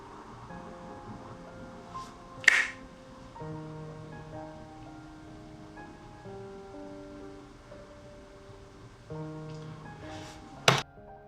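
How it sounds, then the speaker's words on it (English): Two sharp finger snaps ring out several seconds apart, short crisp clicks over soft sustained background music, with no one talking. "When I snap my fingers"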